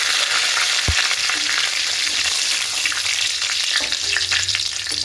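Nigella seeds and a few dried red chillies crackle and sizzle in hot mustard oil, a steady loud frying hiss with a sharp clatter near the start as they hit the pan, no voices.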